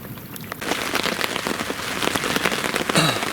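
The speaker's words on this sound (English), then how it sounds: "yeah, I hate filming in the rain." Steady spring rain patters on a surface nearby outdoors at a carp fishing spot, a dense hiss of drops with scattered sharper taps, continuous and fairly loud.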